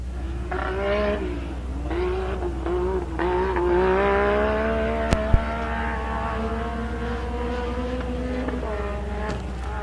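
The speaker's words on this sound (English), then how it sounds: "So that was car 10 taking off, which is David Oliver." A race car at the 4WP Nitto Tire Nationals qualifying revs up and pulls away, its engine tone rising in stepped gear changes over a constant low hum, loud and close.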